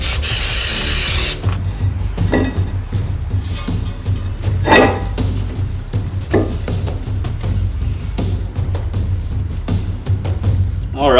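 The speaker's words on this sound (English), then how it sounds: "So I've got my brake cleaner. Just gonna spray it down" Brake cleaner is sprayed onto a new brake rotor on a Subaru WRX being fitted with Cadillac CTS-V Brembo brakes. A loud, close hiss lasts about a second, then light clinks, scrubbing and short handling knocks follow at a workshop.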